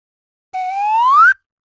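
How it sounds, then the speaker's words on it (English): A single recorded swanny whistle note rises steadily in pitch for under a second and cuts off sharply, with silence before and after. "load up a recording of a swanny whistle I made earlier"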